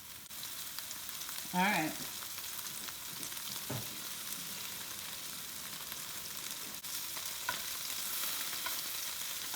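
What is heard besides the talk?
meatballs browning in a frying pan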